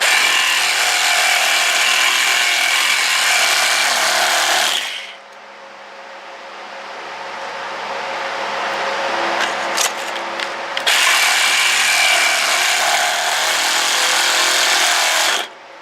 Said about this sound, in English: Lennox oil saves the life of the Sawzall blade.